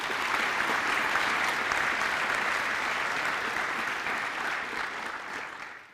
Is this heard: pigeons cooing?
no